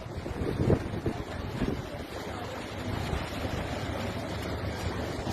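Rushing floodwater on a river in Jamaica during Tropical Storm Grace, a steady broadband roar with wind buffeting the microphone throughout, loudest in the first second.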